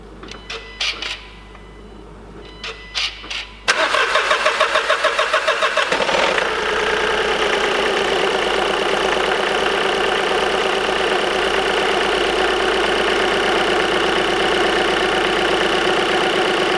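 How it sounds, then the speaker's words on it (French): A car engine cranks with difficulty through a few rapid starter-motor whirs, then catches and settles into a steady, even idle that runs on alone at close range. "elle a eu un petit peu de mal à démarrer"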